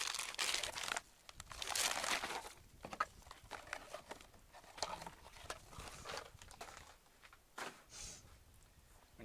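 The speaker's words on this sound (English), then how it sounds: "how you cut your big cables." Thick wire cable, wider than a finger, gets cut with big cable cutters: repeated dry crunching and crinkling squeezes come one after another at close range, with no one speaking.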